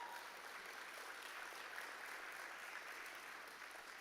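An audience at a Jamaican agribusiness investment forum gives a round of applause, a soft, distant, continuous patter of many hands clapping at a steady level from start to end.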